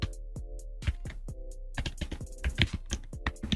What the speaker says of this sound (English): Mr. Zoro, I'm gonna be touching your keys every day, buddy